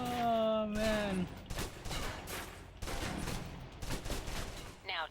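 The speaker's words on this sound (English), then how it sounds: "Now let's empty the clip. Let you get a feel for the recoil." Submachine gun fire in the spy action video game Alpha Protocol: a tone-like sound fades, then a long string of rapid, loud shots is fired as the clip is emptied, with a few pauses between bursts.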